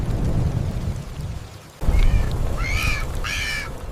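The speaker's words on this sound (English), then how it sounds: "Rain floods the forest, but the father cannot stop searching for food." A heavy rainstorm pours down on a forest in a dense, constant hiss, broken by a low rumble of thunder, while a few bright bird calls ring out near the end.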